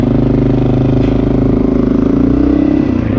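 A Honda XR650L single-cylinder motorcycle with a Lexx aftermarket exhaust idles loud and close. Its steady, throbbing exhaust pulse has a slight rise in pitch toward the end, and nobody speaks.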